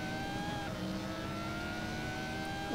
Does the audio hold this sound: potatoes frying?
no